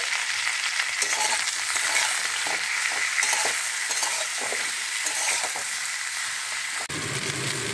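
Tangra fish sizzle in hot oil with turmeric, a steady crackling fry broken by soft stirring scrapes and a sharp clink near the end.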